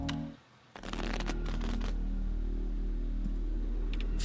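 Tableau cards in a solitaire video game shuffle with a quick burst of crisp riffling clicks, then a steadier run of soft card flutters over a low hum, ending in a few light chimes.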